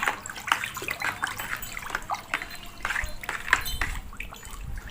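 Water sloshes and trickles as a homemade egg-based plant hormone mixture is stirred into 20 litres of plain water, with uneven splashes and swirls close by.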